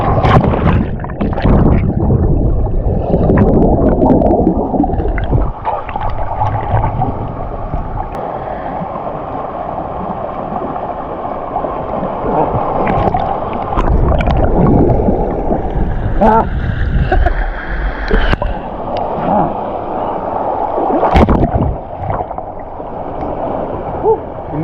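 Two waterfalls rush loudly between rock pools on a Trinidad hiking trail, a close, powerful roar of churning and splashing water that stays steady throughout, with occasional voices underneath.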